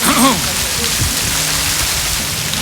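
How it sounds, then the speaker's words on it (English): A small waterfall of running water pours with a loud, close, hissing wash over a few seconds, and a brief voice is heard at the start. "cheeky little waterfall, look."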